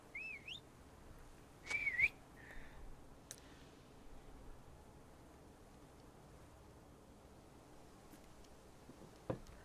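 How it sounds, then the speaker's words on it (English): A short, sharp warbling horse whistle in The Lord of the Rings Online sounds twice near the start, then faint clicks and quiet background hiss. "let's get off the horse so we can use the horse or use the whistle"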